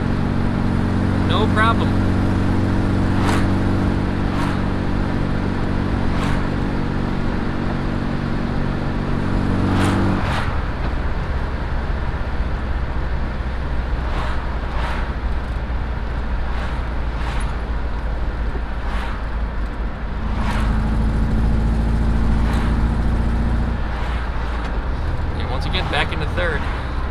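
A Volkswagen car drives along in steady engine drone, and gears shift into third with a faint clunk as the engine tone drops and changes. Someone talks over the constant road and engine noise.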